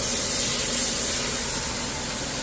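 New York strip steaks sizzle loudly in a hot pan, a steady, close, bright hiss of searing meat and spattering fat with no talking.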